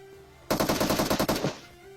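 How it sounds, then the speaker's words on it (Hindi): Automatic gunfire from a PUBG battle-royale firefight, a rapid burst of roughly a dozen loud, evenly spaced shots lasting about a second, set against a quiet steady game ambience before and after. "फिलहाल स्कूल की तरफ से अभी भी गन फाइट के साउंड आ रहे थे"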